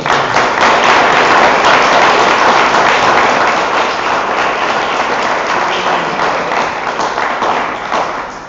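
A crowd at an evening talk on primary education claps together, a loud, full round of applause that holds steady for about eight seconds and tapers slightly at the end.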